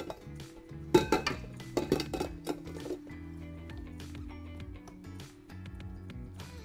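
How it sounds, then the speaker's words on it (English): Wire whisk scraping around the sides of a mixing bowl while mixing dry ingredients, a run of close, bright clinks and scrapes early on, then softer, steadier scraping over a low music bed. "So I'm using the whisk itself to kind of scrape off the edges"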